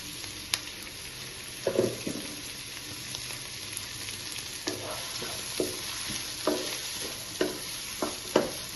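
Onions, green chillies and curry leaves fry in a pan with a steady sizzle, broken by occasional scrapes and clinks as a spoon stirs them. No one talks.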